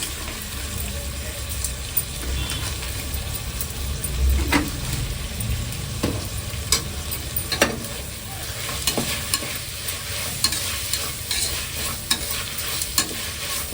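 Ginger and tomato with salt fried and stirred in a pan for a cooker mutton biryani, a loud continuous sizzle broken by repeated spoon scrapes and clinks against the vessel.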